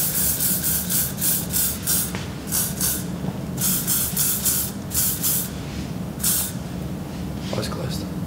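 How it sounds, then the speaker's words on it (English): Hairspray hissing in a series of short and longer bursts onto a pixie cut at a salon, close and fairly loud over steady background noise. "Let me grab a bit of spray and we'll lock it in there."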